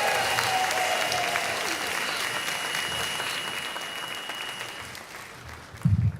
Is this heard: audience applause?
yes